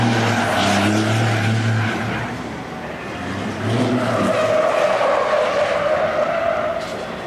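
A 12,000-pound race truck does donuts and drifts at Elko Speedway. Its tires squeal and skid loudly and continuously over a roaring engine, with a brief easing midway before the screech builds again.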